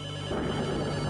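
A telephone rings in the game Return to Shironagasu Island, a steady electronic ring that rises in loudness partway through and holds over a constant background drone.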